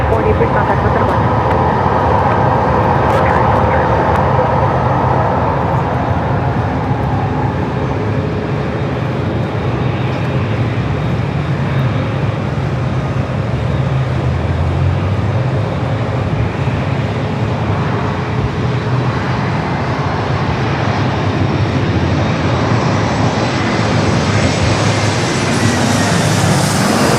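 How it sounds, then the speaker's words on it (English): A Boeing 787 Dreamliner jet airliner at San Diego airport gives a steady, loud broadband engine roar that holds throughout, with tower radio talk heard over it. "Dreamliner heading back to Amsterdam."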